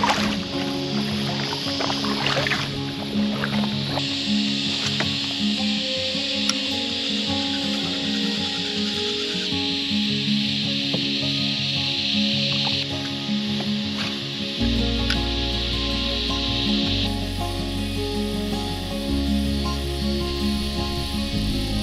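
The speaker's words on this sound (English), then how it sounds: "the cicadas are deafening in here" Cicadas along a creek on the Hawkesbury drone in a loud, unbroken high buzz that fills the whole stretch, over a faint low rumble with occasional small knocks.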